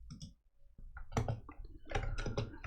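Someone types the command ls -la on a computer keyboard, tapping out a short burst of close, crisp key clicks that is broken by a brief pause partway through.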